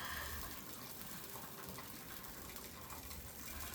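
Hot cooking liquid from a roast chicken pan being poured off, a steady continuous splashing gush of fairly quiet liquid with no talking.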